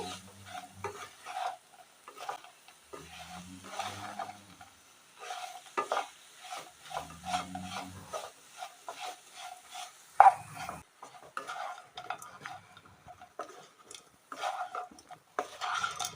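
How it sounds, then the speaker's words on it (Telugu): Potatoes frying for aloo fry in a pan while a utensil stirs them, with a steady soft sizzle and repeated scraping strokes, plus one sharp clank of metal near the middle. "దీన్ని పచ్చివాసన పోయేంత వరకు ఫ్రై చేసుకోండి."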